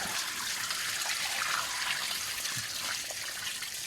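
Water streams steadily and noisily while a water tank is being washed out, producing a constant, close rushing splash with no voices.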